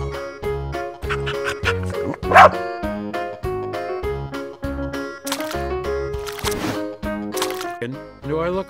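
A toy dog barks and yips in short repeated bursts over steady, looping background music, the barks fairly close and moderately loud.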